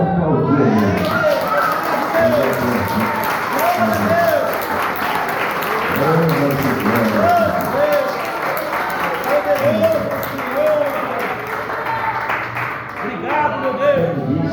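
A church congregation claps together in a sustained wash of applause while a voice keeps speaking loudly over it.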